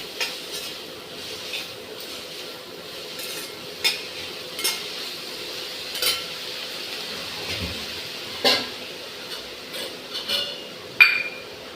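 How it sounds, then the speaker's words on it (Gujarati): Vermicelli chow mein being stirred with Maggi masala in a pan, giving a quiet steady sizzle broken by scattered scrapes and clinks of the spoon against the metal, each a short sharp tick over the low background hiss. "તેમાં મેગી મસાલો એડ કરીશું અને આને મિક્સ કરી લઈશું."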